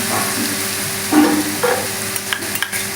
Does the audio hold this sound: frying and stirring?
yes